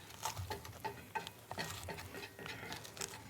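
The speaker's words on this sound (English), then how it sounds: "Now we're going to add the shallot to this and just cook the shallot down." Chopped shallot cooking down in a pan with bacon, giving faint, quiet patter and light sizzle with scattered stirring ticks and clicks, no voices.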